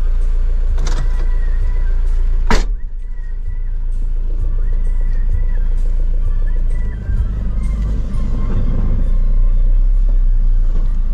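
Loud, close rumble of a goods vehicle's engine idling and pulling away at 2:30 at night, a sharp click early on, then the steady running drone.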